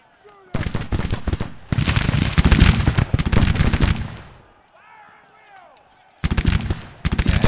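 Heavy Civil War battle gunfire in a video game, dense rattling musket volleys in long loud bursts that break for a moment of near quiet before resuming, with shouted voices among the shots.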